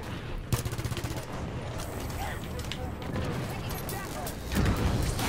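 A powerful gun fires in Halo 5 Guardians, a fast rattling stream of shots that starts abruptly and runs throughout, mixed with game effects and a voice talking over it.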